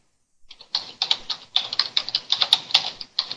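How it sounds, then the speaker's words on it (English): Rapid clattering keystrokes on a computer keyboard, close and crisp, in quick irregular bursts with a brief pause midway. "Forgive my typing"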